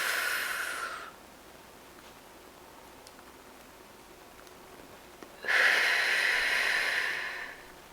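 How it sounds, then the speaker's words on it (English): One slow, deep breath of square breathing: a long, airy inhale through the nose, a quiet held pause of about four seconds, then a long breathy exhale. The whole breath is close and soft, and no one talks. "you're going to breathe in for four counts, and then you're going to hold it at the top for 4 counts"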